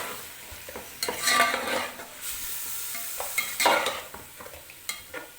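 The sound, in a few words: chopped onions frying with chicken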